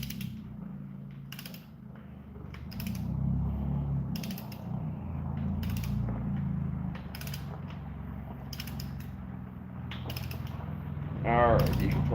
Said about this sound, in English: Alright, you can torque down now.